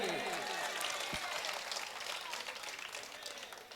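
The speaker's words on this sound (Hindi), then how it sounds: "तो जोरदार ताली बजाइए।" A crowd at an Indian mushaira and kavi sammelan poetry gathering in a college bursts into loud applause, many hands clapping densely, then gradually fading as murmuring voices rise beneath it.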